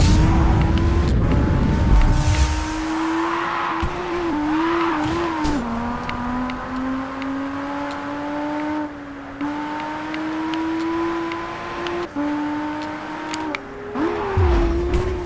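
A powerful race car engine in the Japanese Drift Master video game drones loudly and continuously, its pitch rising and dipping with gear changes, with brief tire squeals along the way.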